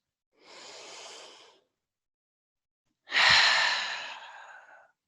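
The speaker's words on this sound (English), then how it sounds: "As we take our last breath here" Two deep breaths during a yoga exercise: a soft inhale through the nose, a pause, then a louder, longer exhale sigh that fades out slowly, close and intimate.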